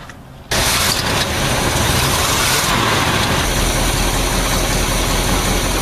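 A 1983 Chevy Squarebody truck engine fitted with new exhaust donuts starts up with a sudden loud catch, then settles into a steady, rumbling idle close by, with a slight exhaust leak still present.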